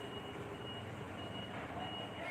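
Truck reversing beeps sound in a steady repeating pattern over a constant engine rumble, close by, with several trucks working at the site.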